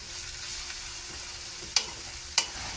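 Bean sprouts tossed in a hot pan give a soft, steady sizzle, with two sharp metallic scrapes of a utensil against the pan near the end.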